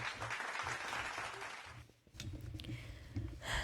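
Applause from a crowd, a steady broadband clatter of many hands that breaks off briefly near the middle before resuming, with low rumbling underneath.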